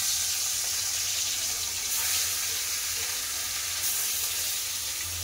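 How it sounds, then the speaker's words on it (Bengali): Fish sizzling as it goes into hot mustard oil in a pan, a steady, dense crackling hiss that holds evenly close by with no talk. "তেল গরম হয়ে গেছে, এবার মাছ দিই"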